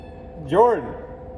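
A single short meow rises and falls in pitch against a quiet background, clear and fairly close.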